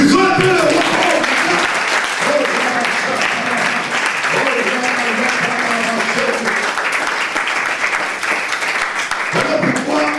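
A church congregation gives the king sustained applause, an even wash of many hands clapping for about ten seconds, with a voice heard through it.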